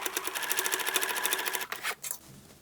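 Sewing machine top stitching along the top edge of a shoulder bag made from old denim jeans, a steady rapid needle rhythm running loud and close for about a second and a half, then a few short bursts and stops.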